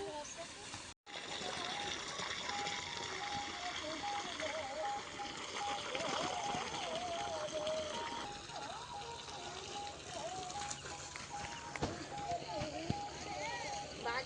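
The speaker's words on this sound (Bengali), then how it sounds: "বড় মোটরে কিন্তু বেশ খুব স্পিডে জল পড়ছে" A large motor pump pours water at high speed into a potato garden, a steady continuous gush running throughout, with voices talking over it now and then.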